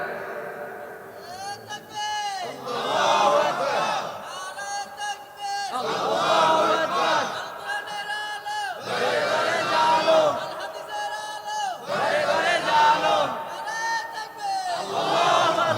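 A large gathering at a Bangladeshi religious sermon answers a call with a chanted takbir (Allahu Akbar), loud bursts of many voices shouting in unison, repeated in a steady rhythm about every two seconds, with brief gaps between calls.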